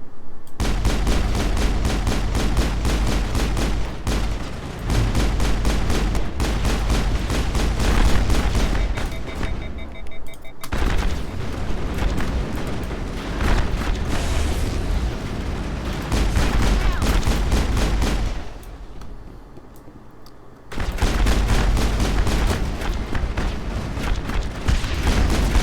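Enemies firing at the player in Mass Effect, with near-continuous bursts of rapid gunfire and booming shots for most of the stretch, dropping briefly into a quieter lull before the barrage resumes.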